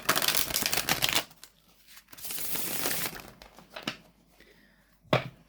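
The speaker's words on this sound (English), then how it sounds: "as you can see, a really gorgeous, gorgeous shuffle" Linen tarot cards are riffled and shuffled in several quick bursts, crisp papery flutters close by, separated by short pauses and a final snap.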